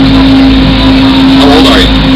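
Steady loud engine drone of a 2.5-ton Army truck amphibious duck boat cruising on the water, a constant hum with a strong low tone, with people talking over it.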